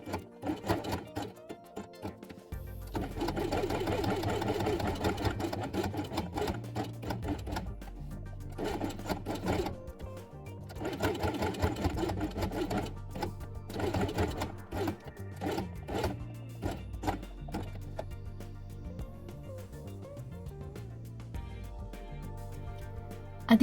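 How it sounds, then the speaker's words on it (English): A sewing machine stitches felt along the edge of a doll house quiet book piece with white thread, running in long steady bursts with short pauses, close and moderately loud. "sew it along the edge with white thread"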